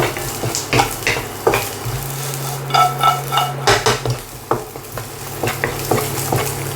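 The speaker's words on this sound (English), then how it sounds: "lapchung a little bit of a stir in the oil. Brown it a little bit." Lap cheong sausage stirred and browned in hot oil for grandmother's fried rice, a steady sizzle with repeated scraping and clinking of a utensil against the pan, close and loud.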